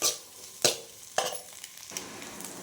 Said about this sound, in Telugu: ఇప్పుడు మనం ఫ్రై చేసుకున్న ఎగ్స్ ఉంది కదా, అది వేసుకుందాం. అది వేసుకొని బాగా వేయించుకోవాలి.